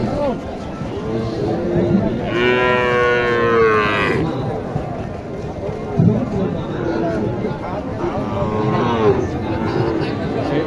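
Cattle at a village cattle market in Naogaon low loudly and repeatedly while a crowd chatters all around and someone talks nearby.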